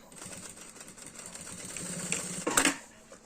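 Sewing machine backstitching at the start and end of a seam on a box-style fabric cosmetic pouch: a quiet, rapid mechanical whir in short runs, rising to a brief louder clatter near the end before fading, with no talking.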